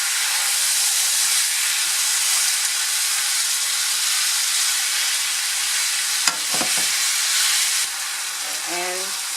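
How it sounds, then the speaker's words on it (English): Steak sautés with garlic powder in a hot pan, a loud, continuous hiss of sizzling fat, broken near the end by a few sharp clinks of stirring and a brief voice. "You don't have to add the garlic powder, but I chose to add that. And kind of saute it"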